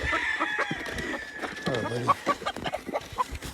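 Roosters cluck and squawk nearby on a farm, with several short choppy calls scattered among rustling and someone speaking briefly.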